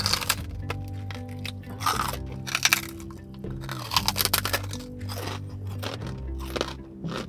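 Loud, close crunching from chewing crisp food, with repeated bursts of bites over a steady tonal background hum.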